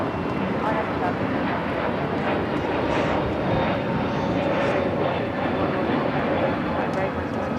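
Airliner taking off from runway 25 right at LAX, a steady loud roar of jet engines filling the whole stretch without pause.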